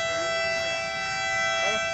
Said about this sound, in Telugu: విన్నారు కదా, టాయ్ ట్రైన్ స్టార్ట్ అవుతుంది ఇప్పుడు